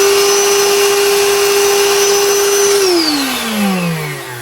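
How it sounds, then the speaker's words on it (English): A BAUER 20V cordless 7-gallon wet/dry shop vacuum runs with a steady, loud motor whine that holds level, then winds down in pitch as it switches off near the end. "it sounds like an air shop vac to me"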